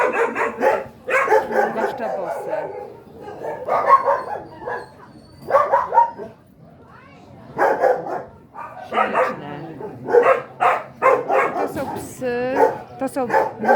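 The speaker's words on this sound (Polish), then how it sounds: "To są takie, takie żywe pieski." Young dogs at an animal shelter in Germany bark and yip in short bursts close by, mixed with a person talking and an occasional whimper.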